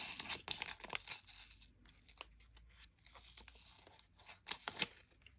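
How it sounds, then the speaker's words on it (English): Blue masking tape is peeled off a model car window in a series of short, crisp tearing and crinkling bursts, irregular and close, with quiet pauses between pulls. "So let's peel the blue tape off and see how I did with the other side."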